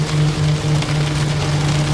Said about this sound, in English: I'm not used to driving in rain, that's for sure